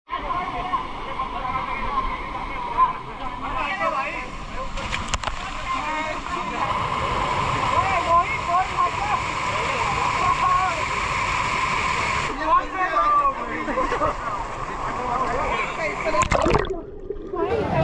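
Water rushes steadily at Sikhar waterfall while people wade and splash in it, with splashes and gurgling over the waterfall's constant roar and voices talking throughout.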